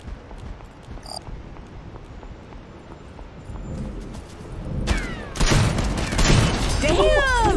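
Gunfire in the online shooter ShadowGun War Games during a capture-the-flag match, quiet at first and then a burst of loud shots and impacts over the last few seconds, with a voice talking over part of it.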